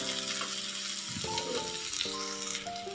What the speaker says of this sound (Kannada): ಎಲ್ಲವನ್ನು 1 ನಿಮಿಷ ಚೆನ್ನಾಗಿ ಗೋಲ್ಡನ್ ಬ್ರೌನ್ ಬರೋವರೆಗೂ ಫ್ರೈ ಮಾಡ್ಕೊಳ್ಳೋಣ